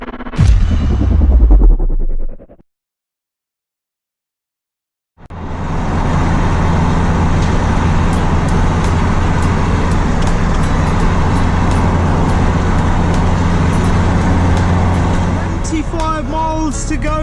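Steady road traffic heard from inside a vehicle stuck in a jam on the way to the Jurassic Coast, a loud constant engine and road rumble that starts after a short silence and runs on, with a voice briefly at the start.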